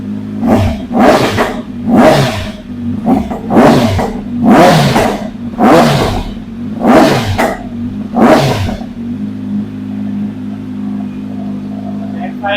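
Superbike engine fitted with an Arrow slip-on exhaust, blipped hard about eight times in quick succession, each rev a loud close roar that drops back to a burbling idle, which carries on alone at the end.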